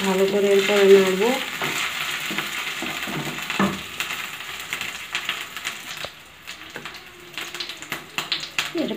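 Three slit green chillies fry and sizzle steadily in a pan of mustard fish curry, with scraping stir strokes and clinks over a continuous hiss throughout; no one speaks.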